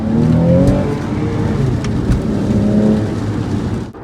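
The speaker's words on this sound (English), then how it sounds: "You still need to rev the engine to get the power out of it." Porsche 911 Carrera GTS Cabriolet engine revving while driving, a loud, close, steady engine drone with rising and falling harmonic tones under road and wind noise, no voices.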